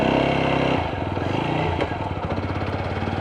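Motorcycle ridden with a helmet-mounted GoPro, its engine a steady close throbbing drone with wind rush, shifting in pitch partway through, loud and continuous.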